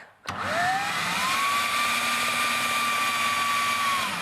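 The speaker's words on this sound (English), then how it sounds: "we're going to blend that until it gets a bit crumbly" A blender mixing pastry dough until crumbly whirs up sharply and runs at a steady, loud, high-pitched drone for several seconds without pause.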